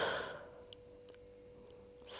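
A long, soft exhale during a mat exercise, breath fading out over about half a second, followed by quiet stillness and a faint breath at the end.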